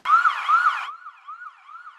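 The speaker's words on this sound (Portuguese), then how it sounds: "Geralmente, quando a sirene toca, aí chega um paciente aqui de urgência." An emergency siren wails loud and close, a dense two-tone sweep for under a second before thinning to a single cleaner rising-and-falling tone that keeps cycling to the end, with no voices.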